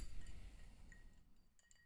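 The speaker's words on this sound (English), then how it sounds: "Let me get my bar spoon here, give it a little stir." A metal bar spoon stirring a drink in a rocks glass gives faint, light clinks against the glass, a few soft chimes over low room noise, with no talking.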